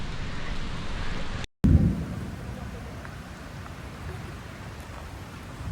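Steady rain hisses throughout, with a low rumble of thunder after a brief cut; the storm sounds moderately close and continuous.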